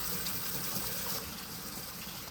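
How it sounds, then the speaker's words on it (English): Fresh strawberries rinsed under running tap water, a steady close gushing splash with no talking. "all I'm gonna do is rinse off my berries"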